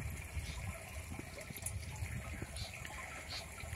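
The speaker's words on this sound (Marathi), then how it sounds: "पाणी चालू केलंय बघा, ड्रमात पाणी पडते बघा" Steady rushing tap water pours continuously into a drum, a constant splashing gush with no breaks.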